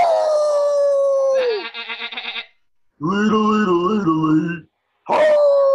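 Voices aboard a cartoon pirate ship imitate wolf howls: one long sliding howl, then a rapid wavering cry, several voices howling together in layered tones, and a last howl starting at the end.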